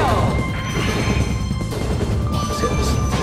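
Train derailing and crashing in a festive Christmas train racing video game, a dense continuous rumble of smashing and crunching game noise that stays loud throughout, with excited voices talking over it.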